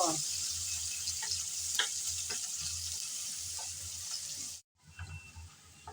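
Chopped onion and garlic fry in a pan while being stirred, producing a soft steady sizzle with repeated light scrapes and taps of the spatula, then a brief drop to silence before the frying resumes.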